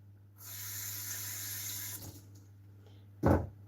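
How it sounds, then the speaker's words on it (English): Vegetables rinsed under a running kitchen tap: a close stream of water that runs for about a second and a half, stops, then gives a short loud splash near the end. "I'll give that a rinse."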